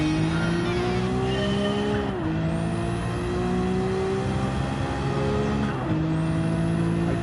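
Nissan GT-R race car engine in a racing video game on a tarmac speedway infield, holding a steady high-revving drone with two sharp dips and recoveries, like quick gear changes, loud and continuous with no talk.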